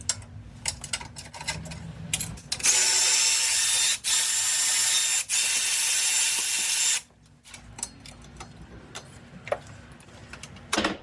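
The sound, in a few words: ratchet loosening bolts on Subaru power steering pump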